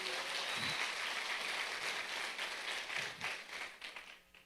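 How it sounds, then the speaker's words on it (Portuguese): Congregation in a church service applauding, a steady wash of many hands clapping at moderate distance that thins toward the end, with no talk over it. "Pode aplaudir o Senhor."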